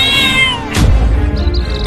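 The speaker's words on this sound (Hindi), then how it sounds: "उन बिल्लियों की माँ उस शेर से लड़ गई है अपने बच्चों को बचाने के लिए" A cartoon cat yowls in a short falling cry, then a sharp burst of scuffling noise as it fights a lion, loud and close.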